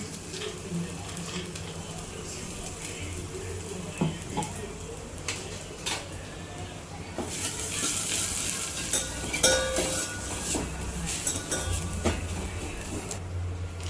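Coconut, garlic and ginger paste hitting hot oil in a tempering for dal, a dense close sizzle with stirring scrapes and occasional clinks, the frying swelling louder partway through while a voice talks over it.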